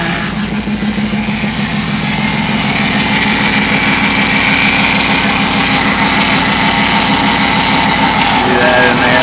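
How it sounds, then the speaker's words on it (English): A Hemi engine runs steadily and loudly with a whining power steering pump, the drone holding a thin continuous whine above the rumble throughout. "I guess the power steering pump's what's making that noise."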